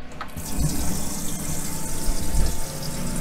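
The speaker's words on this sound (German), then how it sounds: "wir fangen jetzt erstmal an, Wasser hier reinzulassen" Water runs steadily from a tap into a sink, a continuous gushing splash close by, with a few faint knocks.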